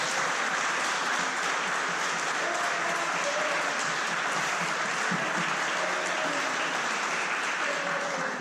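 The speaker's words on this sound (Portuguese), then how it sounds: "Dê uma salva de palmas para Ele." A church congregation at a Sunday evening family service claps together in a long, even wash of applause that holds steady and loud throughout, with no voices breaking through.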